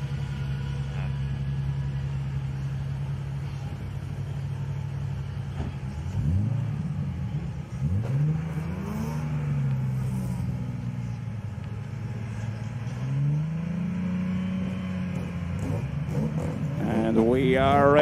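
BMW RX 3000 rallycross cars idle and blip their throttles on the start line at Laitse, several loud close engines rising and falling in repeated revs before swelling together, with a voice talking over them.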